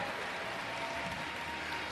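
Applause and crowd noise at an adaptive surfing competition, a steady dense wash of clapping and cheering that holds at an even level throughout.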